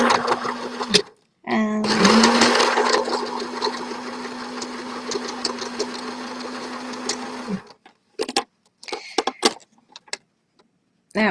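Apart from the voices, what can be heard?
sewing machine back stitching tie dye fabric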